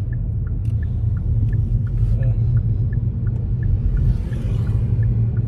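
A car carries an Uber passenger through Paris in the evening, with a steady low engine and road rumble inside the cabin and a faint repeating indicator-like tick.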